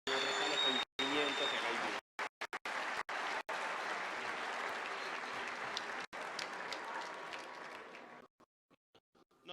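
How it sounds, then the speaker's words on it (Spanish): Applause from a conference audience at a lecture hall, steady dense clapping for several seconds that cuts in and out abruptly, then fades to scattered claps near the end; a faint voice may sit underneath. "Un aplauso para la sala de padre que está acá pendiente"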